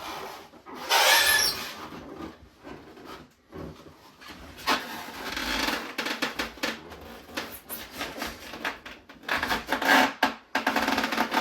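Boxed log splitter scraping and sliding out of its cardboard packaging, with bursts of rough rubbing and rasping at close range, pauses between pushes.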